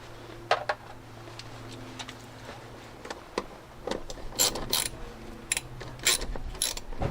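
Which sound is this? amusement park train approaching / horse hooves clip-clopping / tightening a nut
tightening a nut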